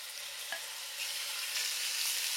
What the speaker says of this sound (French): J'y envoie un fond d'huile d'olive. Et j'y ajoute les morceaux de viande dès qu'elle est bien chaude.